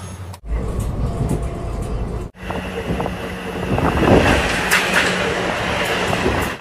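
A passenger train runs between Bandel and Durgapur, its carriage rumbling steadily with rattling and wind rush. The sound drops out briefly twice, then returns as a continuous, close, loud roll.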